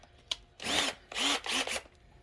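A power drill bores into a Can-Am X3 DRT Motorsports grill insert in three bursts, each with a rising whine as the motor spins up, then brief pauses between them, close and fairly loud.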